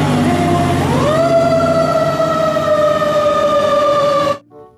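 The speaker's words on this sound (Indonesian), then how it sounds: "Wow, lihat, ada pemadam kebakaran." A toy fire truck's electronic siren wails loud and close, its tone sliding upward then holding a steady high pitch before cutting off abruptly.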